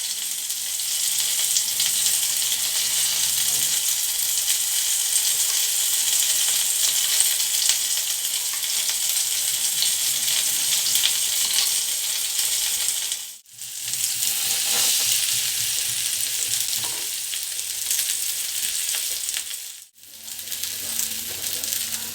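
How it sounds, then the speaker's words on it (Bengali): Marinated chicken satay fries in a pan with a continuous close sizzle and occasional turning and stirring clatter, interrupted by two brief near-silent breaks. "এখানে চিকেন স্যাটেগুলো বেশ ভালো করে উল্টে পাল্টে ভেজে নিতে হবে, যাতে ভিতরে কাঁচা না থাকে।"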